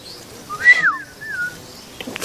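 A person whistles a short rising-and-falling tune, fairly close and clear, with a second softer whistled phrase following, amid quiet room noise.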